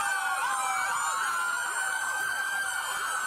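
A crowd of police sirens wails continuously and loudly, the overlapping rising and falling tones filling the scene in bodycam footage, with no talking.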